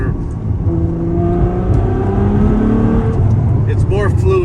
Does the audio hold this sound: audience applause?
no